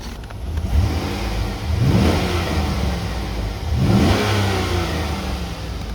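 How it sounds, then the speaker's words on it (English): A 2007 Chevy Suburban LT engine revved outdoors in two strong bursts, each rising and falling back to a steady idle, loud and close with no voices. "Give it a little bit of a rev outside real quick."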